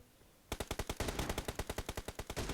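Rapid automatic gunfire in PUBG Mobile, a loud close burst of evenly spaced shots in quick succession after a brief quiet start, with no talk.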